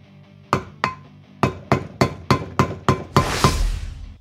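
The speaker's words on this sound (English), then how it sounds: "just tap your screwdriver down in there" Screwdriver struck repeatedly with a hammer to fold a freeze plug in a 360 Magnum engine head, about eight sharp metallic taps at an irregular, quickening pace, close and loud, ending in a ringing clatter.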